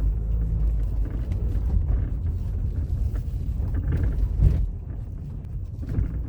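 A used car rolls over bumps, heard from inside the cabin as a steady low road and wind rumble with a brief thump near the end and no clanking.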